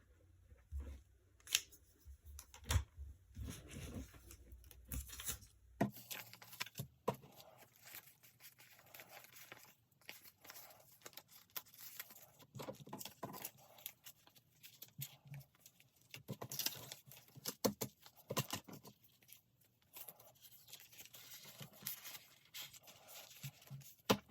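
Pen scratching notes onto paper cash envelopes, faint and close, in short irregular bursts with soft paper rustles and handling between strokes, no talking.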